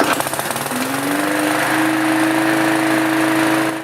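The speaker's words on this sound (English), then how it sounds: "I'm going to start up the lawnmower" A lawnmower engine sputters into life right after a primer bulb replacement and settles into a loud, steady running drone close by, then begins to fade away at the very end.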